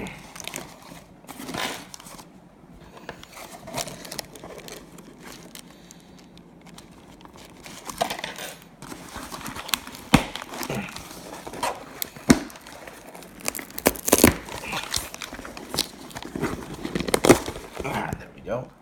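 Paper packing crumples and crinkles in bursts while a Hot Wheels car is unboxed, with close rustling and handling that picks up in the second half, and a person talks over it.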